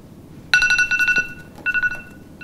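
A telephone rings loudly in short, rapid electronic trills, two bursts separated by a brief pause, over a steady background hum; no one speaks.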